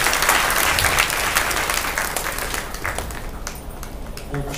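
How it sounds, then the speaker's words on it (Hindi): An indoor audience claps loudly and steadily to welcome a group of young men, the dense applause gradually thinning out toward the end. "कल्याणपुर कुमारों के लिए आप लोग जोरदार से ताली बजा के उनको स्वागत करवाते हैं।"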